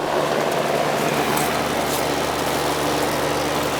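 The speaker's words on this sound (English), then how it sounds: "I think it's just the fan running." A steady AC unit fan whirs with the compressor not running, a continuous close-up hum and broadband rush that never changes level, with no voices.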